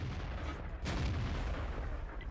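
A single sharp Tiger tank gun shot cracks out in World of Tanks, a loud broadband blast standing above a constant rumbling engine and battlefield bed.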